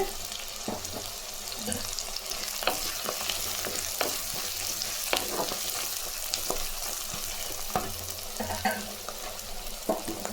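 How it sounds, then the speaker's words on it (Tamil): Garlic, green chilies and onion sautéing in a pan for a taro root kara kuzhambu, a steady close sizzle broken by frequent scraping stirs and clinks of a spoon, with no talking throughout. "பூண்டு, பச்சை மிளகா, வெங்காயம் நல்லா வதங்கட்டுங்க"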